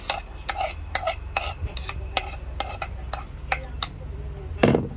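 Garlic frying in olive oil in a pan, a soft steady sizzle punctuated by about a dozen sharp, regular scrapes and taps of a utensil stirring against the pan, close and prominent.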